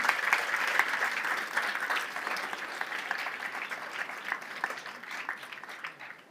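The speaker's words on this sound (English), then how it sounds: "So a huge round of applause for everybody" An audience at a community talk in Barrington claps steadily for several seconds, a dense, even wash of applause that slowly thins toward the end.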